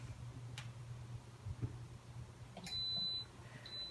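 An Instant Pot sounds one long electronic beep after its start button is pressed, with a few faint clicks before it over a low hum.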